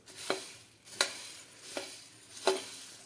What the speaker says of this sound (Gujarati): હવે આપણે મમરાને આ રીતે ચમચીથી હલાવતા જઈ અને શેકી લેશું.